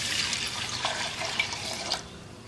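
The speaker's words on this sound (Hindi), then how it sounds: "इसमें ये दूध शामिल करेंगे।" Milk poured into a pan on a low-medium flame at the start of making saffron kheer, a soft, steady liquid splash and trickle heard up close with no talking.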